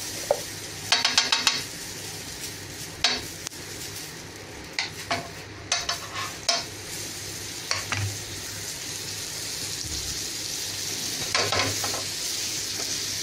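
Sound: pav bread pressed and frying on a pan

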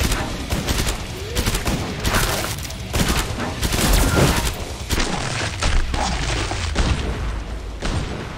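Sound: gunfire in video game Killing Floor 2

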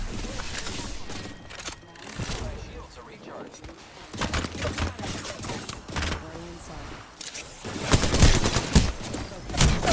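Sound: gunfire in a video game

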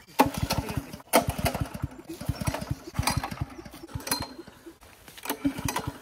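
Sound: trying to start a water pump motor

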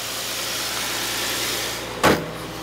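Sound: 2009 Infiniti G37X 3.7 liter V6 engine idling

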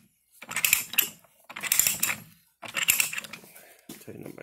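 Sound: Harbor Freight pipe threader threading pipe

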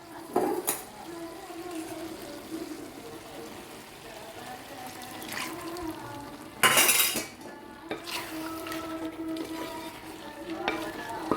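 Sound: water added to sizzling chicken stew being stirred

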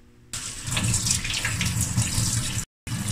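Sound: washing flattened rice (chuda) in a strainer under water

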